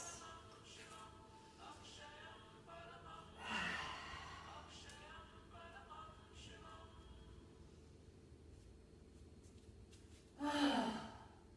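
Two deep belly breaths for a root chakra breathing exercise, one near 3.5 seconds and another near 10.5 seconds, each a loud, gasping inhale heard close up over quiet background music.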